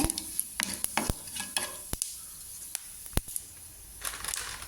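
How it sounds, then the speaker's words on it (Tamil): Mustard seeds and cumin fry in hot oil for a Tamil egg curry, with a spoon stirring them; sharp scraping clicks and crackles ring out over a steady sizzle, nearby and fairly quiet, with no talking. "எண்ணெய் சூடானதும் கடுகு, சின்ன சீரகம் போட்டு நல்லா வதக்கி விடுங்க."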